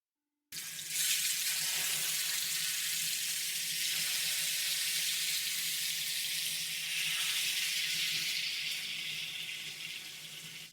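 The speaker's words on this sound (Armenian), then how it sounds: "Սկսում ենք տապակել մեր խորովածները։" Pork satay skewers in Vietnamese style fry in a hot pan with a loud, continuous sizzle and spatter that begins abruptly and holds steady for about ten seconds.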